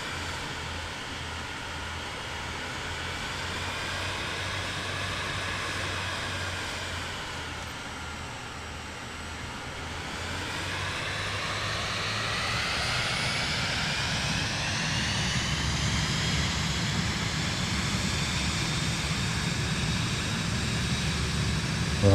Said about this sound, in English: Cleared for takeoff runway 26.